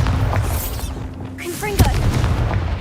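A Bombarda explosion spell in the video game Hogwarts Legacy, a loud booming blast with a crackling burst and whooshing tail over rumbling game background, with a brief voice nearby.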